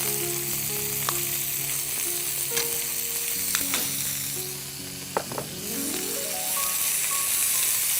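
Vegetables fry in butter in a pan with a steady, close sizzle, a few utensil taps and scrapes breaking through, while a soft melodic tone sounds in the background.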